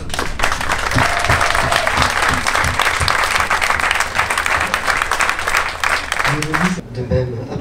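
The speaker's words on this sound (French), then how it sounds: "je crois qu'on peut vous applaudir" Congregation at a Mass honoring sea rescuers in Hyères claps loudly and continuously, a dense sustained round of applause that stops abruptly near the end as a voice begins.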